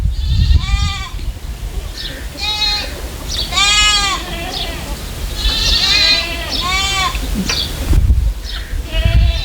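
Goats bleating at a farm house near Karachi, several loud, wavering calls in quick succession over a steady outdoor background, with rustling and some human voices in between.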